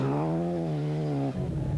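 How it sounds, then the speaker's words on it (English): 1994 Opel rally car on a snowy Norwegian stage, engine revs rising in a strong harmonic whine as it takes off over a jump, then cutting abruptly near the end, close and loud. "Listen to the engine revs rising as the Opel takes off over a jump."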